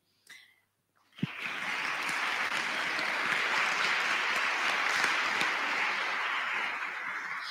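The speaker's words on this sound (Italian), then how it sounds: "anche da parte mia un applauso in questa occasione" After a brief breath and a sharp first clap, an audience at an Italian book presentation breaks into sustained, dense applause that continues steadily to the end.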